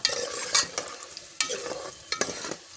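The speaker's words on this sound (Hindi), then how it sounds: "घी के अंदर अब हम प्याज डालते हैं" Onions frying in a generous amount of ghee, a steady sizzle with several sharp bursts and scraping stirs, close and fairly loud with no talking.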